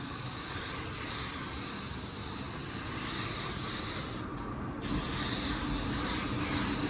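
A cheap paint spray gun sprays a car with a steady hissing spray that runs continuously, broken by one brief pause, close and even in level.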